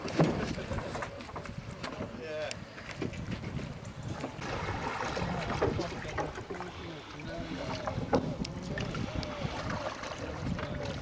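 A canoe paddled and rowed on water during a Christmas punt and paddle cruise: soft, rhythmic splashes and dips of the blades with the hull's wash, under low background voices and light wind.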